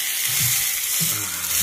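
Black Angus steak sizzling in a pan at home gives a steady close hiss of frying fat, with faint low bubbling pops underneath, loud and continuous with no voices.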